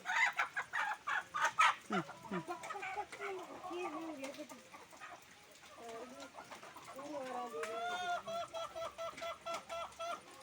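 Chickens about to be given away cluck close by in quick repeated bursts at the start and end, with drawn-out calls in between and a faint distant crow.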